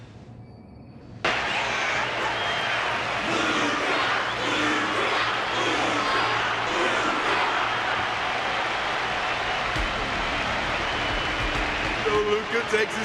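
Steady crowd applause and cheering in Honkai: Star Rail fills the whole stretch after a quiet opening, dense and continuous, with a low hum underneath.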